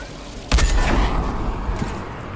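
Gunfire in the video game Fortnite, a sudden loud burst of shots starting abruptly, followed by a dense, reverberant rattle of continued firing that slowly trails off.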